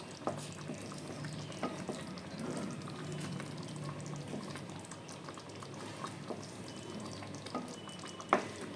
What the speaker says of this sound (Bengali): তো এটা দিয়েও আমি একটু নাড়িয়ে দেবো